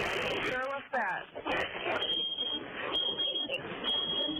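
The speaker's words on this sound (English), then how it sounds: "why is an alarm going off?" An alarm beeps during a phone call about a residential fire, a thin high tone that repeats under steady voices on a band-limited telephone line.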